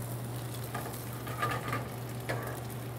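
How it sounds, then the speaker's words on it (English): Bacon sizzles and fries in a pan, releasing its fat before mushrooms and onions go in; a steady low crackle runs throughout, with light stirring scrapes now and then. "So we render out some more of the bacon fat before we add in the mushrooms and the onions"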